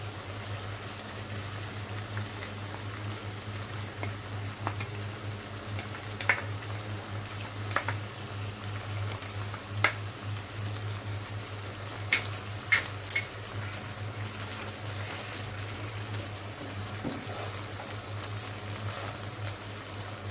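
Garlic frying in a pan beside chicken liver, a faint steady sizzle and bubbling with scattered small pops and clinks, no talk.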